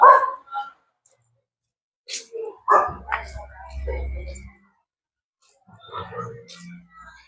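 A dog gives a few short yips and barks nearby, intermittent and mixed with people speaking, with quiet gaps in between.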